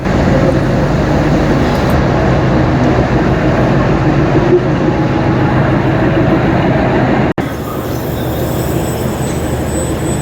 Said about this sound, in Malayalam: ഇപ്പം നമ്മൾ ട്രെയിൻ വന്നുകൊണ്ടിരിക്കുന്നുണ്ട്.